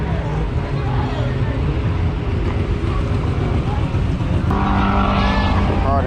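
A car spins its wheels in a street pit, its engine revving loudly with screeching tires and crowd noise, while people shout and talk nearby.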